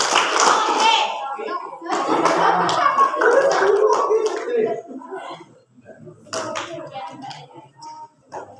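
An audience at a school Islamic New Year 1445 H talk claps in unison, a couple of quick bursts of hand claps, with talk and a voice mixed in around them.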